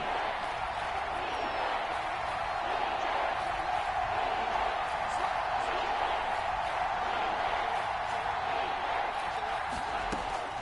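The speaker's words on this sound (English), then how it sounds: "Crowd getting in it a bit already." A stadium crowd at a Miami Dolphins football game keeps up a steady, dense roar throughout, with no distinct peaks or breaks.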